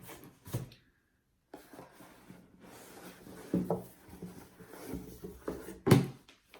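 Cardboard handling as a Louis Vuitton bag box is opened: a few soft knocks and rustles, with a sharper lid thump near the end, close and fairly quiet with brief pauses between.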